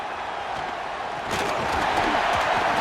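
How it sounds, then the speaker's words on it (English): Large home stadium crowd at a Notre Dame college football game against Syracuse, a steady broad roar that swells louder midway and keeps rumbling with scattered cheers. "Gosh, Chris, I just love this atmosphere."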